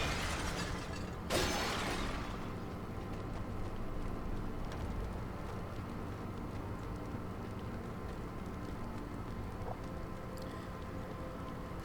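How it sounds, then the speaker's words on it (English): Clay pots shatter in the retro shooter Wrath: Aeon of Ruin with one sharp crash early on, then a dense, steady wash of game noise and faint clatter continues at moderate level without speech. "We're smashing pots and searching for keys"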